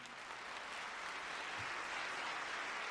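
Applause for young Artsakh performers on stage, a steady dense patter of many hands clapping at moderate level throughout, with no voices over it.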